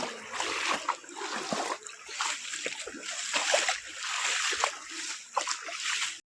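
Floodwater from Cyclone Dana surges around a house doorway, sloshing and splashing in an uneven, moderately loud churn that continues without pause.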